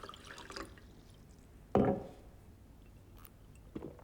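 A drink being poured as a sound effect in an album interlude, a short liquid splash and gurgle standing out in the middle of quiet background sounds.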